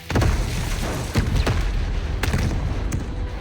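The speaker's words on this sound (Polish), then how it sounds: "stałem na tym głównie i to teraz wybuchło" Explosion in Avatar: Frontiers of Pandora: a loud, deep boom bursts out at the start and rolls on as rumbling, with several sharp cracks and pops following over the next few seconds.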